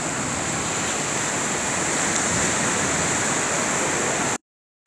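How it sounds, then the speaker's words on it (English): Heavy ocean surf breaking at a ski boat launch on the beach at St Lucia, South Africa: a loud continuous roar of crashing waves close by, cutting off abruptly near the end, with no voices. "They're waiting for Ocean Commotion to clear the surf."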